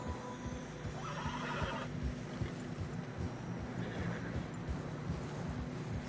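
Tired horses in a video game moving along a narrow path through fresh snow, with a clear whinny and muffled, irregular hoof steps over a steady wind.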